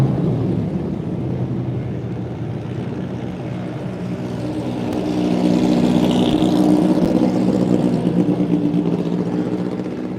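A Tiga S2000 race car at Phillip Island's festival of motorsport drives past with a sustained, droning engine note that grows louder and closer partway through, then holds steady over background circuit noise.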